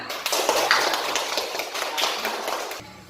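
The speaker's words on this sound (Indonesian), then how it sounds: "Bagus ya. Tepuk tangan." A group of students applauds in a classroom, a brisk round of many hands clapping nearby that fades out near the end.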